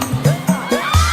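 Crowd at a night closing ceremony of a provincial sports event, cheering and whooping in repeated rising bursts with shrill voices, loud and close, no clear clapping.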